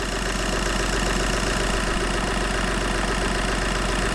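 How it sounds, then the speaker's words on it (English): A Skoda Fabia 1.2 TDI diesel engine idles steadily while warming up after a timing belt job, a loud, even clatter with a fast regular knock throughout, close by and with no voices. "Now I'm going to let the engine to work until it reaches normal working temperature"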